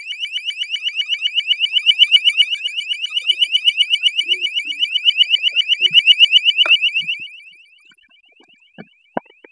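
Loud alarm device rated around 100 decibels, tested for wood wool sound insulation, blares a rapid warbling electronic tone continuously for about seven seconds before cutting off, leaving a few faint knocks and clicks.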